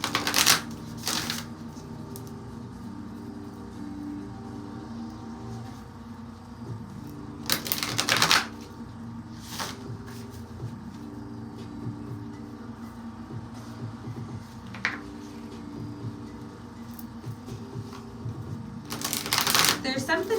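An oracle card deck is shuffled in several brisk, papery riffling bursts separated by quieter stretches, with a low background hum between them.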